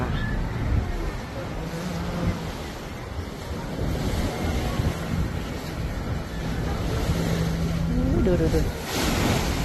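Waves and gusting wind buffet the bow of a passenger boat cruising near Stockholm, a constant loud rush of water and microphone wind noise throughout, with brief voices over it.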